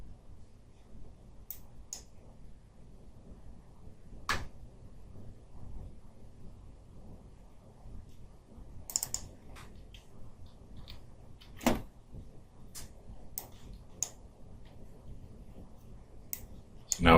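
Sparse computer keyboard keystrokes and mouse clicks during chip layout design work, quiet isolated ticks spread irregularly over a low background hum, a few sharper clicks standing out.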